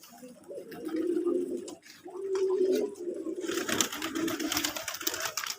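Local domestic pigeons cooing at a rooftop pigeon farm in sunny weather, with soft, continuous overlapping coos close by. A brighter burst of fluttering, rustling noise joins them midway.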